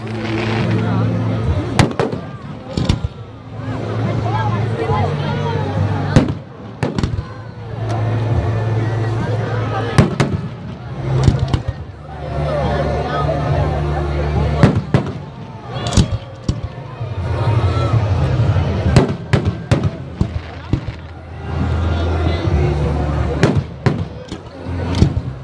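Full Coney Island fireworks show on a July night, with repeated sharp bangs and crackling bursts over a steady low rumble of crowd and water traffic, some shells close and loud, people talking and cheering throughout.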